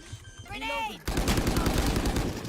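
Gunfire in a shooter video game, with a short tonal whistle-like sweep followed by a sudden loud, sustained burst of rapid shots and explosive crackle that continues to the end.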